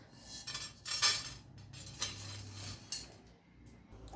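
Sunflower seeds being dry-fried and stirred in a pan for a dry fruits powder, giving repeated close scraping and light clinking of a utensil against the pan, with short bursts of rattling at an uneven rhythm.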